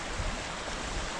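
Rushing water of the fast-flowing Sebes-Körös river in the Transylvanian mountains, a steady broadband roar with no break, heard close and fairly loud throughout.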